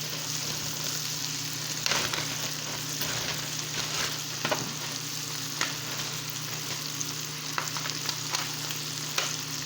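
A pan of apple sauce with white and brown sugar cooking down toward caramel gives a steady close sizzle and bubbling throughout, broken by occasional soft clicks of stirring.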